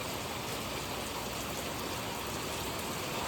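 Steady, dense rainfall pours down continuously, a broad hissing wash of drops on surfaces with no pauses.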